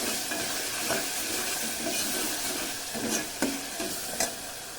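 Turmeric being stirred into food frying in a pan, a steady close sizzle with scattered scraping clicks of the spoon against the pan.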